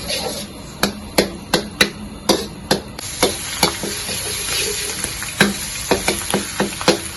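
Bean curd frying slowly over a very low flame, a steady soft sizzle throughout with a series of sharp, regular clacks of a spatula striking the pan, no talking.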